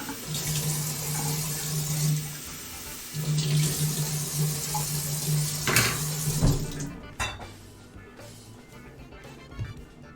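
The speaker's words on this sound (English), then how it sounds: "We'll take about 3/4 cup of hot water here." Hot water runs steadily from a kitchen tap into a sink or measuring cup for pastry dough, a loud continuous rush with a brief pause partway through and light clinks of dishes near the end.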